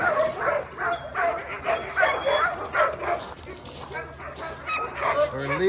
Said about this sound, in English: We're leaving the dogs, and they're getting a little riled up.